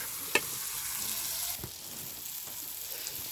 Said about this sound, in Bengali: আবার একটু নাড়াচাড়া দিই সুন্দর করে ভাজার ফ্লেভার আসুক